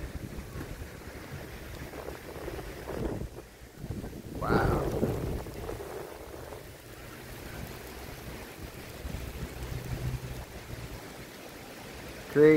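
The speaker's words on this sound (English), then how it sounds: "Wind is picking up," Gusting wind buffets the microphone as a September thunderstorm moves in with rain starting, a roaring rush that swells and ebbs, with a brief exclamation from a voice.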